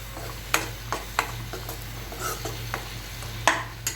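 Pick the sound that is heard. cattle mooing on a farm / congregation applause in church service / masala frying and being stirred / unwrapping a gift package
masala frying and being stirred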